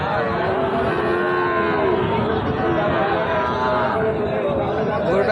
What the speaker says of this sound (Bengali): এটা তো মুন্ডি গরু নাকি